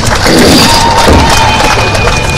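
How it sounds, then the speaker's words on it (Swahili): A crowd at a Chama cha Mapinduzi campaign rally in Monduli cheers and applauds, a loud, dense burst of noise from a large gathering lasting a couple of seconds. "Pigeni makofi"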